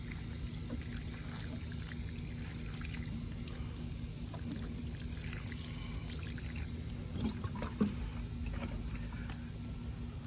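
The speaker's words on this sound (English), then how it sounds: "Okay, so I'm going to give it some water." Water pours and trickles onto an air layer on a fig tree outdoors, a soft continuous splashing under steady background hum, with a couple of brief knocks near the end.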